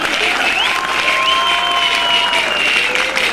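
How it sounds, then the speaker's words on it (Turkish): Dense crowd applause at a victory celebration outside Ankara's municipal building, steady and continuous throughout, with whistles or cheering tones riding over the clapping. "işte tam burada alkışlamamız gerekiyor biliyor musunuz?"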